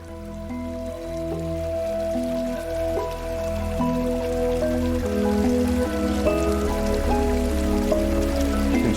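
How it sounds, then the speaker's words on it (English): Water running down a 70-foot constructed garden stream in Malvern, PA, toward a lower basin, heard as a steady close trickling and splashing wash under a sustained musical drone. "this water that's running down all the way down about a 70-foot run into the lower basin section"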